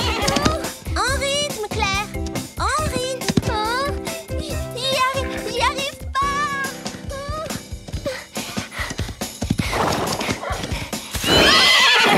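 Horse hooves clip-clop in quick rhythm alongside repeated loud neighs and whinnies, up close and busy, with a voice and other voices mixed in from an animated scene.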